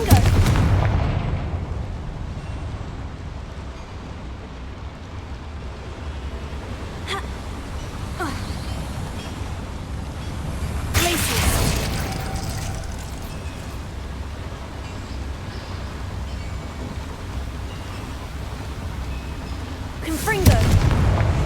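Confringo blasting spells cast in Hogwarts Legacy, several booming fiery impacts erupting over continuous game ambience, with a loud blast at the start, a strong burst around the middle and another near the end.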